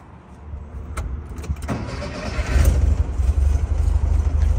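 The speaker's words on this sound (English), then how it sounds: "This motor sounds and runs excellent." A 1974 Volkswagen Thing engine starts up with a few sharp clicks, then settles into a loud, steady running rumble close by, with no talk.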